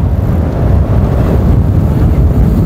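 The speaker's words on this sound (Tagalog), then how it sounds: "Lakas ng hangin." Strong wind roars across the microphone outdoors at a race event, a steady, loud, low buffeting rumble that lasts the whole stretch with no break.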